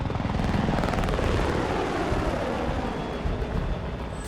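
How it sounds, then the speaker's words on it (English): A rescue helicopter flies over a landing zone on a Navy SEAL pickup, its loud, steady rotor chop and engine roar close and dense throughout. "It then pulls up hard and high, leaving the second aircraft to slip in for the pickup."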